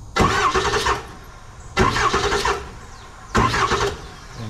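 A Ford 7.3 Power Stroke diesel engine with two bad injectors, running rough, cranks over in three separate bursts of starter whirring about a second long, each separated by a short pause, loud and close.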